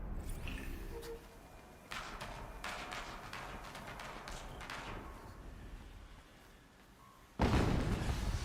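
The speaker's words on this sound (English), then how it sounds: "Another explosion." Game explosions from Horizon Zero Dawn: a series of muffled thuds and bursts through the middle, then a big loud blast near the end that rumbles on to the finish.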